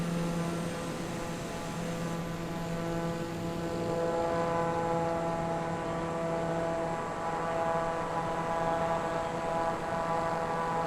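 Steady propeller-plane engine drone in Microsoft Flight Simulator 2020, a continuous tonal hum with layered harmonics that holds at an even level throughout, with no voices.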